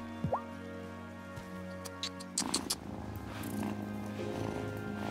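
A cat purrs softly while being petted in the video game Wylde Flowers. A few light ticks come early, then a low, steady purr continues over faint background music.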